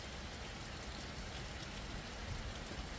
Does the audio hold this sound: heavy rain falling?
yes